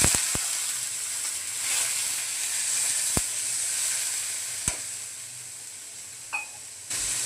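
Turmeric powder and freshly tempered spices hiss and sizzle in a pan after a splash of water goes in. The sizzle is a steady close hiss, broken by a few sharp clicks and a brief spatter near the end.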